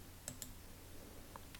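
A pair of faint, crisp mouse clicks sounds close by over quiet room hiss while the OK button is pressed in CorelDraw, followed by a softer click a moment later.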